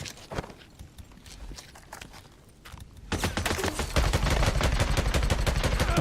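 Heavy weapon gunfire in the Days Gone video game during a sawmill horde fight: after a quieter stretch of scattered shots, rapid sustained automatic bursts erupt loud and close, continuing without pause to the end.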